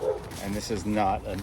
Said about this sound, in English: That's my neighbor's dog, sorry.